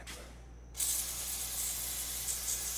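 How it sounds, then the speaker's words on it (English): Shop wash spray aimed at a yellow jacket in a workshop, a sudden loud continuous hiss that starts after a brief pause and holds steady to the end. "All right, we got some of the shop wash spray."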